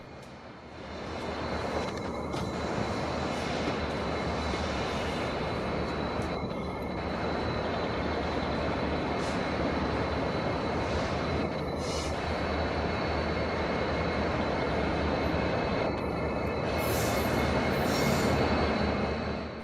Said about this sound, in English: we caught a double Union Pacific freight train meet